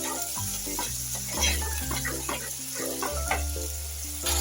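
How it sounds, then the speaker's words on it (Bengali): Sour yogurt being sautéed with spices in a pan for a pointed gourd curry, a continuous sizzle with stirring scrapes heard beneath loud background music. "এগুলো এটার সঙ্গে আমি দইটাও কষিয়ে দিব।"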